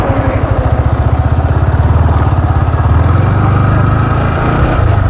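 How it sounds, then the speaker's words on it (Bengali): A motorcycle engine runs steadily up close with a pulsing low throb as the rider starts off and clicks into first gear, the beat shifting slightly as revs change, with no talking. "তো প্রথমে ইঞ্জিন কিল সুইচ অন করতে হবে, তারপরে বাইক স্টার্ট করতে হবে। স্টার্ট হয়ে গেছে, আমি ক্লাসটা ধরলাম এবং ফার্স্ট গিয়ার শিফট করলাম।"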